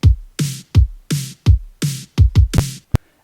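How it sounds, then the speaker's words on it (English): Fast 80s-style drum pattern for indie pop, punchy layered kicks alternating with bright snare hits in a quick driving rhythm, loud, dry and alone, ending on a short sharp hit. "we're bringing in that classic fast kick and snare combo that you're seeing a lot of the 80s inspired pop music do today"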